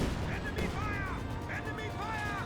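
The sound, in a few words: mortar hits in the video game Company of Heroes 2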